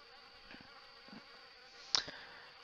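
Wasps nesting in an old car in the video game Harvester make a thin, steady buzz under a faint game ambience, with a brief sharper flare near the end.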